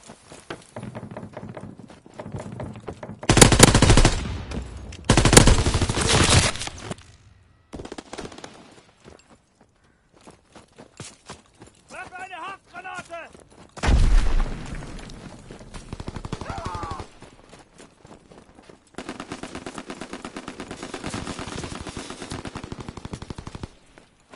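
Video game gunfire: bursts of loud automatic weapon fire, several sustained volleys separated by quieter stretches of footsteps, thuds and faint effects, no talk.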